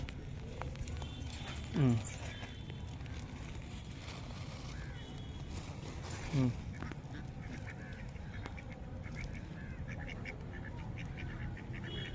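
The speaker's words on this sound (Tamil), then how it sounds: "வாத்து எப்படி அழகா அழகா மேயுது பாரு" Two short duck quacks, about five seconds apart, rise over steady background chatter and outdoor noise.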